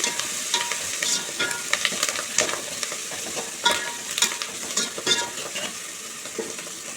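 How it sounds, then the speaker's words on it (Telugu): Curry leaves fry lightly in a pan of farm-chicken curry with tomatoes, giving a continuous close sizzle broken by sharp crackles and spatula scrapes, with no talking. "దీంట్లోనే మనం ఒక నాలుగు రెమ్మలు కరేపాకు ఇస్తున్నాం ఇది కొంచెం లైట్గా ఫ్రై అయితే సరిపోయింది"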